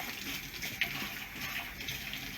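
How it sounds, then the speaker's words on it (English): Hot water gushes steadily from a tap into a pot, a continuous hissing rush with a faint clink partway through and no talking. "we're going to get the hottest water possible from the tap"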